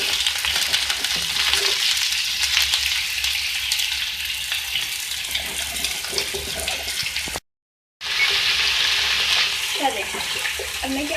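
Sliced potatoes fry in hot oil in a pan while being stirred. A steady, close hiss runs throughout, with a brief silent gap near the end before the sizzle returns.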